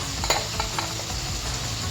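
Spices, with turmeric, cumin powder and other ground spices, sizzle steadily in a pan, with a few soft stirring scrapes close by.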